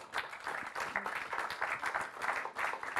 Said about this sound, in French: je pense que ça s'applaudit aussi